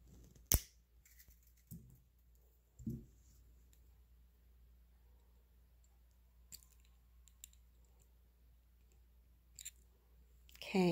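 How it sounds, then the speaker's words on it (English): Wire cutters snip jewelry wire while a woven link necklace is made: a few crisp, isolated clicks spread across a quiet room, one sharp snip early and lighter taps later, close and distinct. "I'm going to snip it closer."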